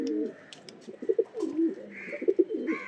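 A young home-bred pigeon coos close by in soft, throaty bursts, while other birds add a few faint chirps in the background.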